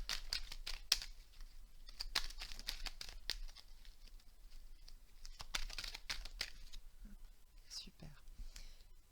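Tarot cards shuffled and drawn from a deck, soft close rustles, crisp flicks and quick card snaps in irregular bursts, with faint whispered talk.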